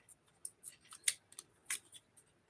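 Scissors make a series of short, crisp snips through paper, close and quiet, in an irregular rhythm of about a dozen cuts.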